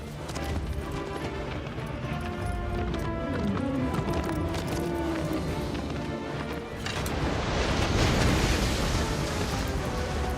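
Horse hooves clip-clop in a continuous galloping rhythm in the video game Shadow of the Colossus, under a steady rumbling background, growing louder and busier partway through.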